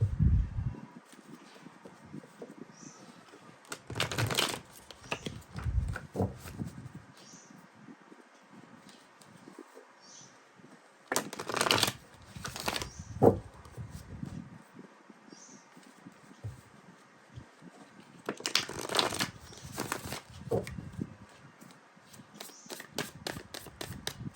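A tarot card deck is shuffled in a quiet room, with three separate bursts of soft riffling and flapping cards, each lasting a couple of seconds and separated by near-silence.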